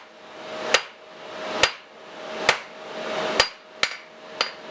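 Hammer blows land on a blacksmith's square and round punch, drawing out a taper on the hot steel: six sharp, ringing strikes spaced roughly a second apart, close and alone with no talk.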